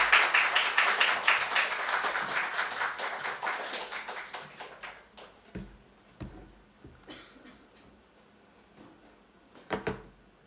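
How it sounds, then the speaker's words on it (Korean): Church congregation at a new-life festival claps to welcome a missionary speaker, a dense burst of applause that thins into scattered claps and fades, with a few final louder claps near the end. "우리 고직관 선교사님 나오실 때 큰 박수로 환영해 주시기 바랍니다"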